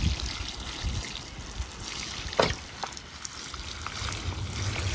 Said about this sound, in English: let's water these in quick